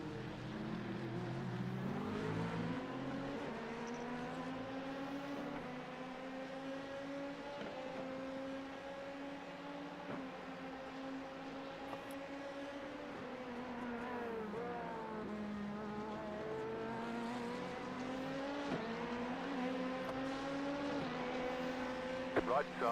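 Race car engines drone steadily through a sim race at Sebring in iRacing, pitch rising and falling with shifts and nearby cars passing, loud and continuous throughout.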